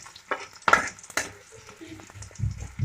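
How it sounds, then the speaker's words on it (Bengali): Onions frying in oil in a home kitchen pan, with intermittent sizzling bursts and stirring clatter, close and moderately loud, no talking. "তেল দিয়ে আবার পেঁয়াজ ভাজতে দিয়ে দিয়েছি।"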